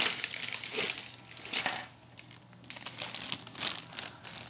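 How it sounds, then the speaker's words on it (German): Crinkly plastic packaging rustles and crumples up close in irregular bursts as parts for a Vespa Sprint scooter are unpacked, with no talk. "Den Rest können wir auch mal auspacken hier."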